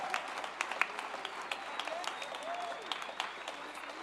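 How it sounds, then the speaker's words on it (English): Audience at a benefit concert applauds the full band on stage, a dense, steady wash of many hands clapping, with scattered voices and cheers mixed in. "Can I have one more round of applause for these wonderful,"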